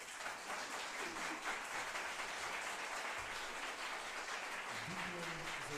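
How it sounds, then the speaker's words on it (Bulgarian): An audience applauds after a performance at an international choir festival in Balchik, Bulgaria, with dense, continuous clapping throughout and some voices mixed in beneath it. "Още веднъж аплодисменти."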